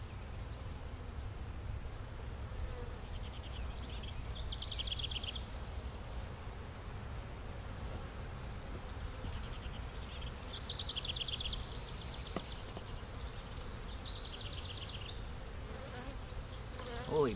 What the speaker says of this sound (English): Holy buckets, these bees are pissed.